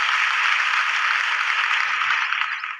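A church congregation applauds loudly, a dense, steady roar of many hands clapping together that holds evenly before tapering slightly at the end, with no speech over it.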